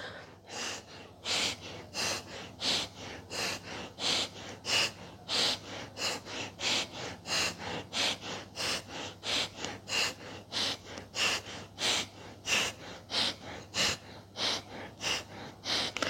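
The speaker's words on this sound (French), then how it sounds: "C'est des inspires courtes et des expires courtes." Short, rapid pranayama breaths pass through the nostrils in a steady, quick rhythm of about one or two per second for the whole stretch. Each exhale is pushed out through one nostril at a time, alternating sides, close and clear, with no talking.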